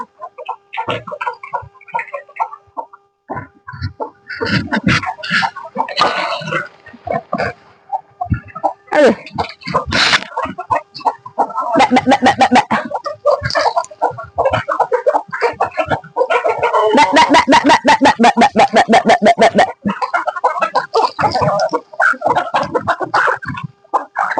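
Hens cluck and cackle close by as they are given layer feed, with bursts of rapid repeated calls building into loud stretches, and a person speaking briefly among them.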